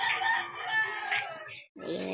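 A rooster crows nearby, a drawn-out raspy call that breaks briefly before another crowing phrase begins.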